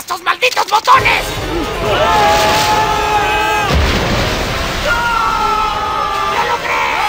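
Cartoon fireworks: a quick string of sharp firework bangs and pops, then a steady whistling, crackling wash with voices underneath.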